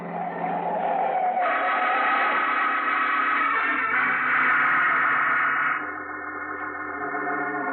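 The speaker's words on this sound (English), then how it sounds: "Hey, mister, look out for that car. You're gonna get run down if you don't." A radio-drama car skid sound effect: a loud, sustained tyre screech with engine roar lasting several seconds, then tailing off, with no talk over it.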